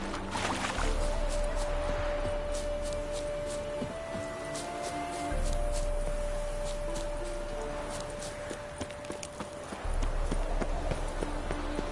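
Horse hooves clip-clop at a steady walking rhythm in The Witcher 3 video game, with a low rumble and faint background ambience underneath.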